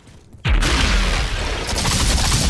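Gunfire in the video game Outriders, a sudden loud burst with a heavy boom that continues as a dense roar of shots and echo for the rest of the moment.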